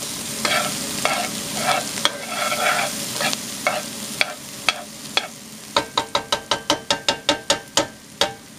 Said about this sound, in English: so I have added the garlic, and we're going to stir fry that, or saute that, I mean, for about 30 seconds